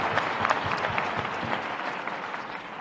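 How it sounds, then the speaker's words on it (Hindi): A youth audience at a dialogue programme in Bhopal claps together in steady, dense applause that fills the hall at close range for about three seconds, with a few voices mixed into the clapping. "तो ताली वाली तो बजाओ, ये हमारे अपने देश की ताकत है।"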